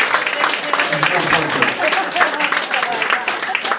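A group claps steadily and continuously throughout, mixed with lively voices and cheering close by.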